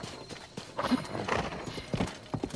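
A giant white stallion in the video game Zelda: Tears of the Kingdom clip-clops along, with steady rhythmic hoofbeats at moderate loudness and no talking.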